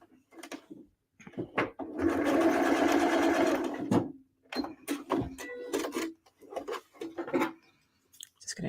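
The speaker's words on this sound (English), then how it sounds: "now I'm just going to stitch across the bottom." A sewing machine stitches across the bottom end of a zipper in bursts, with one long steady whir of needle strokes in the middle and shorter start-stop runs with clicks on either side, close and fairly loud.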